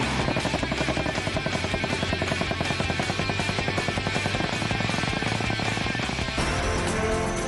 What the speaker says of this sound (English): Say namaste to the light combat helicopter